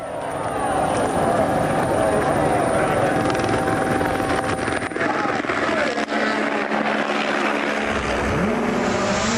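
A helicopter's steady, heavy rotor and engine drone fills the scene loudly at WRC Rally Italy 2025, with another engine rising briefly near the end.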